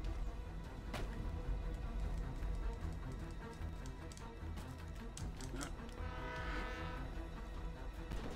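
Train in the GTA V video game, a rumbling rail clatter with horn-like tones and clicks, fairly faint, with a voice speaking over it.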